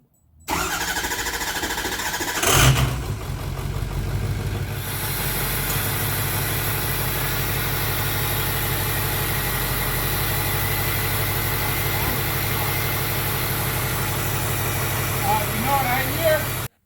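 A Ford 6.0 Powerstroke diesel pickup with hood stacks cold-starts with a sharp cranking burst, then settles into a loud, steady, rattling diesel idle that runs on without pause.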